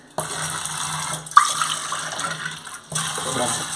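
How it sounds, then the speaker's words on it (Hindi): Water from a tap runs steadily into a pot being readied for Maggi noodles, a continuous splashing gush that briefly breaks off and then resumes, close and fairly loud. "थोड़ा सा पानी डाल देते हैं, पानी काफी है।"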